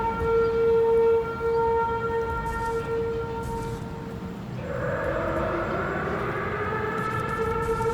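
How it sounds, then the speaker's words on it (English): A loud siren-like alarm wails in an outdoor plaza by a museum in Saltillo, Mexico, holding steady tones before shifting midway into a rising, warbling pitch, continuous throughout with no talking. "the alarm's going off again"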